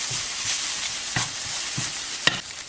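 Shallots fry in a hot pan with a bright, continuous sizzle, broken by a few scraping stirs of a utensil, close and clear with no talking.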